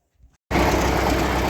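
YuMZ-6 tractor with a hitched mower starts up abruptly after near silence, its diesel engine then running loud and steady at a constant, rough idle during a night hay-cutting job.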